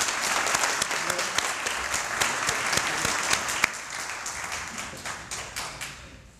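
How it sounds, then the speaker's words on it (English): Applause at an employee service awards banquet, a room of people clapping steadily at moderate distance with a few sharper individual claps, gradually thinning out toward the end. "Let's give them another round of applause."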